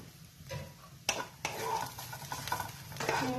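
Bread and peanuts frying together in a pan, a low steady sizzle with clinks of a utensil stirring against the pan, sharp scrapes and knocks standing out every second or so.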